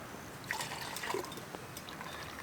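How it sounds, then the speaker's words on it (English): Water poured from a cup into a Millbank filter bag at a bushcraft camp, a soft trickling and dripping stream that rises briefly, fairly quiet against faint outdoor background. "I might use my cup to try and fill up the bag."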